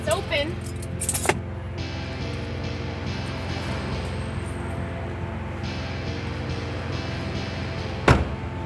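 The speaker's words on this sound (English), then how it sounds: "There's keys in here." Keys jangle inside a car, with two short bright metallic rattles near the start and end over a steady low engine-like hum.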